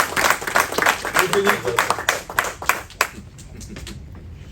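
Applause rises from the audience at an MMA press conference in a dense burst of claps under a voice, fading to a few scattered claps near the end.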